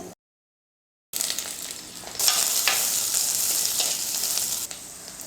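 Sliced onions sauté in hot oil in a pan for chicken kulambu, a steady bright sizzle that jumps louder as more onion hits the pan and continues without speech after a brief silent gap.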